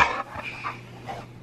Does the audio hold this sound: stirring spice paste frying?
no